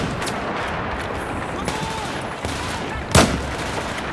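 A sniper rifle fires in Battlefield 4 amid a dense wash of distant gunfire and battle noise, with one sharp, prominent crack standing out near the end.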